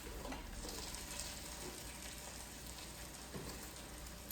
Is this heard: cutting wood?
no